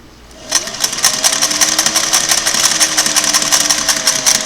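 A Singer Model 404 sewing machine runs a stitch test at stitch setting 8 and tension 3.5, starting up after a quiet moment and then clattering in a fast, even rhythm close by.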